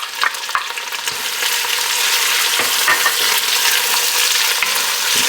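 Half an onion sautés in a pan for a Southern Italian sauce, hissing loudly and steadily, with sharp clicks and scrapes of stirring scattered through the sizzle. No one speaks.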